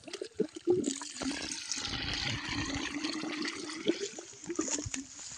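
Water is poured into a solar water pump hose to prime it, a steady splashing, gurgling flow running for several seconds with small knocks and clunks.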